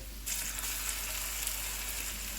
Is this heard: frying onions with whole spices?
yes